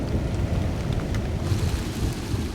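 Heavy rain pours down on burned land in Provence, a dense, loud, steady hiss and patter with deep rumbling underneath, like a thunderstorm downpour.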